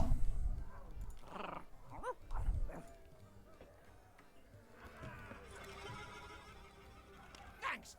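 A dog in the pirate video game Sea of Thieves, with a few short barks and growls among quieter game sounds, with people talking at times.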